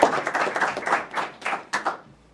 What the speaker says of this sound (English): we would like to have a round of applause for our partners